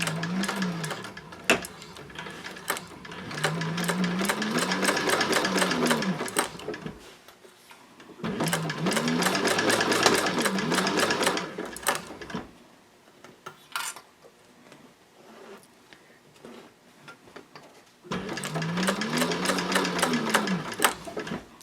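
A Techsew 4800 Pro sewing machine runs in three long bursts of rapid, even stitching at a long stitch length, each separated by a few seconds of near silence with faint handling clicks.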